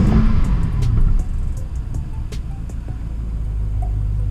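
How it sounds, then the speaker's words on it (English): A 2015 BMW 650 Gran Coupe engine revs, with a loud deep rumble that drops to a steady idle-like drone and faint exhaust pops, close and alone with no talk. "You can even get some back pops."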